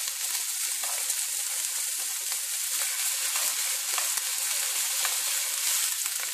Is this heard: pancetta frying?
yes